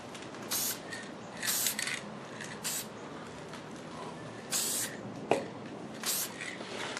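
Short bursts of aerosol spray paint hiss out in several separate passes during touch-ups on a restored RCA Radiola 60 radio cabinet, close and steady, with pauses between bursts and a small click partway through.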